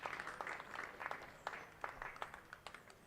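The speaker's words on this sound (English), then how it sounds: "you can hear the ripple of applause across the ground" Ripple of applause from a sparse crowd at a County Championship cricket match, Warwickshire v Kent, distant and faint scattered clapping spread across the ground.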